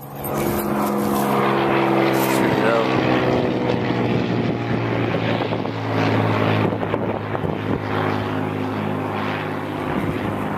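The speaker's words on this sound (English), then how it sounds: "My brother may have flown that plane." A propeller airplane flies overhead on a foggy hilltop, its droning engine loud and continuous throughout with a strong steady hum and some wind buffeting the microphone.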